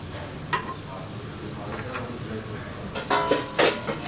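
Vegetables and carrots roasting in a pan for a healthy roast, a low steady sizzle with a few sharp scraping and stirring clatters of a utensil against the pan near the end, no talk.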